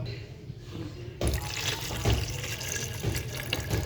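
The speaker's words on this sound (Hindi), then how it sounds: "चिल पानी डालूँगी" Chilled water poured into a blender jug over cream skimmed from milk, starting abruptly as a loud, close splashing pour that continues steadily with gurgles and bumps, with no voices.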